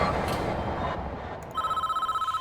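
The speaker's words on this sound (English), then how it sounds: "Here comes the phone call." A telephone rings in the prison-management video game Prison Town, a bright electronic ring that starts partway through and pulses steadily and loudly over a quiet backdrop.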